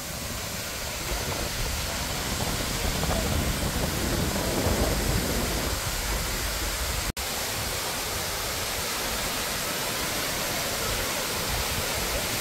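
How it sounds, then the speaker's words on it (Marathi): Savatkada waterfall in the Konkan region roars as a constant, loud rush of falling water, broad and unbroken apart from one brief dropout, with no talking. "हा आहे आपल्या चुनाव कोळवण येथील सवतकडा, कोकणातील प्रसिद्ध धबधबा"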